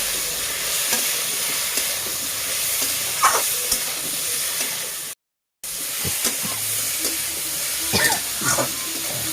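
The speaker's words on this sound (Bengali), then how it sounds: "কলাটা ভালো করে একটু ভাজা ভাজা হয়ে গেছে" Banana pieces frying in a pan with green chillies, the first step of a fish and banana curry, give a steady sizzle and hiss with a few stirring scrapes. The sound cuts out briefly and no one speaks.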